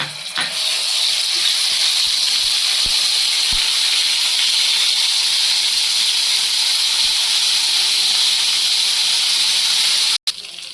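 Ginger garlic paste dropped into hot oil for a hotel-style prawn fry, giving a loud, continuous close sizzle and hiss that holds steady throughout, with a few small pops and a brief cut near the end.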